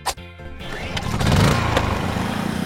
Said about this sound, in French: on doit allumer le groupe électrogène